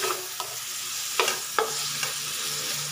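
Tomatoes sizzle steadily in a frying pan for a sardine dish while a utensil stirs them, giving a few distinct scraping clacks over the continuous close hiss.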